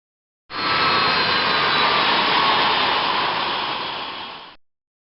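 The jet engines of a Boeing 737NG shutting down, a loud steady roaring whine that starts abruptly, holds for about four seconds, then fades and cuts off, with no talking.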